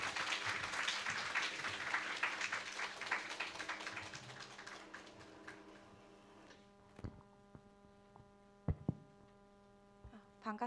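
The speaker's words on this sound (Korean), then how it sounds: "우리 환영하는 의미로 우리 박수로 환영하고" A church congregation gives a short round of applause to welcome a speaker. The clapping fades out after about six seconds, leaving a steady electrical hum and a few scattered knocks.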